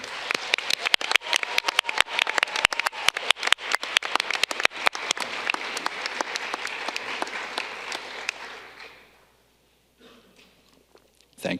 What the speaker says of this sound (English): please join me in offering a heartfelt and appreciative round of applause to all family members and friends who are present